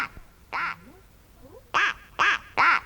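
A cartoon-style duck quacking in a children's story, four loud nasal quacks close by, one alone and then three in quick succession, no speech over them.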